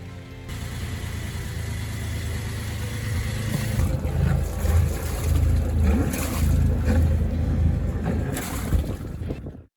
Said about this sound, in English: the engine sprang into life at the first turn of the starter